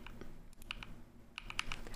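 Computer keyboard keys pressed while gaming, giving a few scattered clicks around the middle and a denser cluster of sharp taps near the end, close and moderately quiet over faint background hum.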